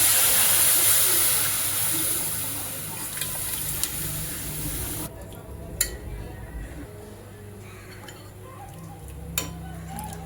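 Chicken pieces dropped into a hot pot of masala for yakhni pulao: a loud burst of hiss and sizzle at first that drops off sharply midway, leaving a quieter simmer with a few clinks of utensils.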